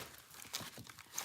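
Tarot cards shuffled by hand in a quiet room, a short run of soft, close papery riffling and crinkling flicks with a few brighter snaps, no voices.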